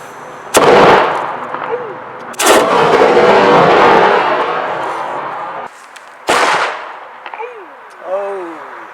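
A 3D printed cannon loaded with a 100 grain charge of triple F black powder fires with a sharp, loud boom outdoors, followed by a long rushing wash of sound and further sharp bangs, with voices speaking in between.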